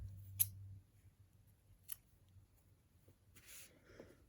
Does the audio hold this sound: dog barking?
no